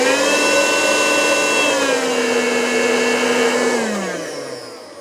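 Shark SV2000 cordless vacuum cleaner switched on, a loud steady motor whine and whoosh that holds evenly, then starts to wind down near the end, with no voices.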